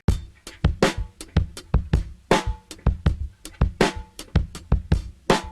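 A sampled drum break plays alone, punchy kicks and sharp snares in a steady looping groove, close and crisp.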